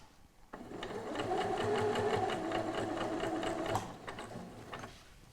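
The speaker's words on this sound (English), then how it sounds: "use the edge of the presser foot along the edge of the bag fabric so that I can stitch in a nice straight line along the edge of the trim" Sewing machine stitching a straight line along the trimmed edge of tote bag fabric, a steady close, rapid mechanical whirring and ticking that runs for several seconds before stopping.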